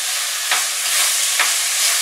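Close, loud frying hiss of chili con carne ingredients in an oiled pan, with two distinct scraping stirs about a second apart and no voices.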